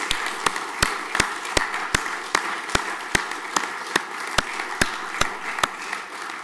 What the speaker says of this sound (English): joining together in loud applause for these outstanding young people